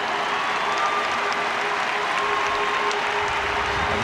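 A stadium crowd at the 2003 Leinster Senior Football Final between Laois and Kildare gives a steady, distant roar of applause and cheering that holds evenly throughout.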